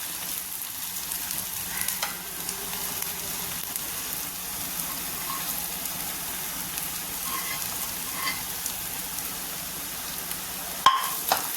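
Masala paste sizzling and frying in a pan with softened onions, stirred steadily throughout, a continuous moderate crackle with a sharp scrape near the end; no talking.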